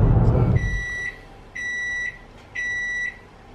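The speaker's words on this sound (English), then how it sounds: "as soon as I start to press the record button, microwave beeps" A microwave oven beeps three times in a steady rhythm, each tone a clear, sustained electronic beep of about half a second, close by in a quiet home kitchen after a brief burst of low noise at the start.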